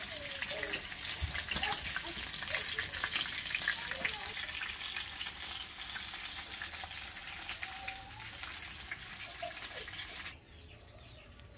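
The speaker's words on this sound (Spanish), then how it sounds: "Y ahora don Miguel está aquí ya dorando el pollo" Chicken browns in a hot pan, giving a steady, dense sizzle and crackle that runs throughout, fairly close, then drops off near the end.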